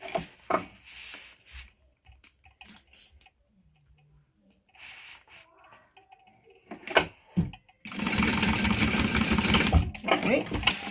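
A sewing machine bastes a D-ring tab in place, with a loud steady run of stitching in the last few seconds, close by, after quieter handling sounds and a person talking.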